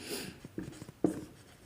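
Chalk or marker writing on a classroom board during a chemistry lesson, a few short scratchy strokes and taps in quick succession, faint and close.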